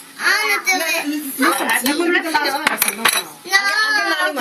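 Spoons clink against dishes in a few sharp, close taps, mixed in with steady chatter from children and adults around a shared serving of food.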